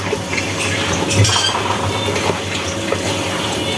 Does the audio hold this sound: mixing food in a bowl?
yes